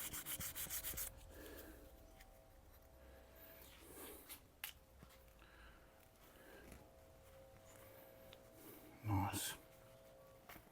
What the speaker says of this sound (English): A bit of sandpaper to get that glue off and prepare the surface again flat.